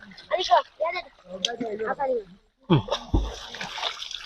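Water splashes and churns in a burst of broadband sloshing after a stretch of close speech, as someone thrashes through the water of a temple pond during a swimming lesson.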